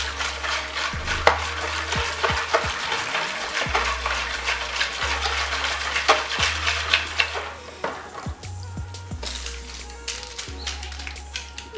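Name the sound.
stirring the sky ice cream mixture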